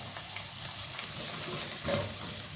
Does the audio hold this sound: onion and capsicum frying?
yes